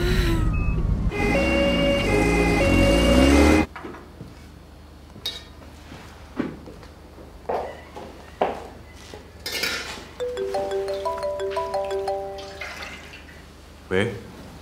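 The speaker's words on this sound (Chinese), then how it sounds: "救护车马上就到医院了" An ambulance siren wails loudly for a few seconds, then cuts off abruptly, followed by people talking with occasional clatter.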